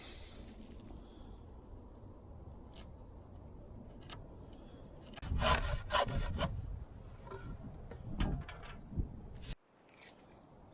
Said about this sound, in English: I'm going to cut them in half